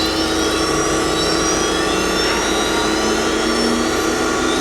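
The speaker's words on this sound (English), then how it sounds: "We start the spindle." The spindle of a Landis 3R universal cylindrical grinder, 72 by 14 with a 14-inch swing, runs with a loud, steady, high whine and a broad rushing hum.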